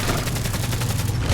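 Rapid, dense gunfire from a firearm in Fallout 4, a loud continuous burst of shots packed tightly together with no pauses and no voices.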